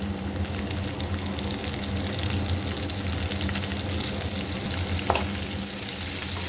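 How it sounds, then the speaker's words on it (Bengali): Chopped garlic sizzling in hot oil in a pan, with onions going in, while cooking prawns with taro leaves: a steady, close, dense frying hiss throughout, with a single brief clink of a utensil near the end. "রসুন কুচিটা ভাজা হয়ে গেছে, আমি এখন পেঁয়াজের কুচিগুলো দিয়ে দেব।"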